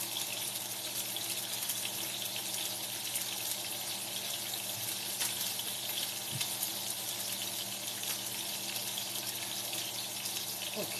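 Sausages fry in a pan for sausage and peppers in sauce, giving a steady, dense sizzle that holds at an even level throughout, with faint occasional stirring and no voices.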